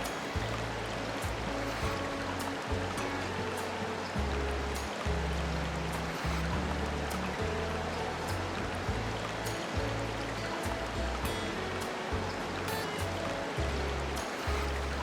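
Water in a woodland river flows steadily and close, a continuous rushing wash with a dense low rumble and no voices over it.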